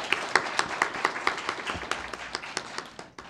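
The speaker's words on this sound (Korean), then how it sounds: "다시 한번 안선환 의장님께 큰 박수 부탁드립니다" Applause at a youth mock council ceremony: a modest group claps in a quick, distinct rhythm of individual sharp claps, close by, tapering off at the end.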